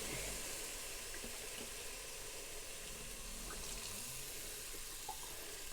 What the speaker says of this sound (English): We're going to add in our 32-ounce beef stock.